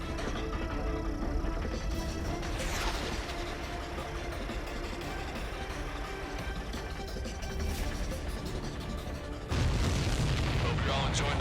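Explosions from the combat flight game Ace Combat 7: Skies Unknown, mission 17 Homeward, roll out as deep, rumbling booms over dense game sound, building through the clip and ending in a heavier, louder burst.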